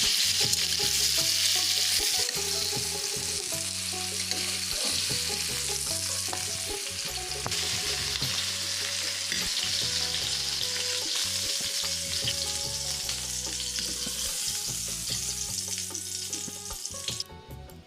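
Pumpkin pieces fry in oil in a wok over high heat, a loud steady sizzle running throughout with repeated scraping and stirring knocks in an uneven rhythm, close and without any voices.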